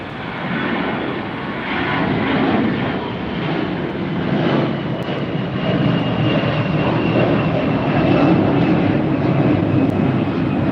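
Fiji Airways jet airliner taxiing at LAX, a loud continuous engine roar and whine that holds steady and swells slightly over the stretch, heard alone.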